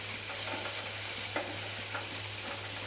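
Small roe-filled puti fish frying with onion in a pan, stirred with a steady faint sizzle and occasional soft scraping strokes, no voices.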